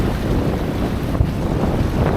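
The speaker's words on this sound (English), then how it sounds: "Days like this, just this consistent sea breeze that comes through." Steady sea breeze blowing at about six knots over a small sailing dinghy, a continuous rushing wind buffeting the microphone with faint water sounds beneath, no talking.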